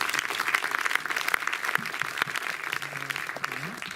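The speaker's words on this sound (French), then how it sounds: "on peut les applaudir aussi" An audience applauds the film crew at a screening, a dense, steady round of clapping from many hands at moderate loudness that thins slightly toward the end, with a faint voice murmuring underneath.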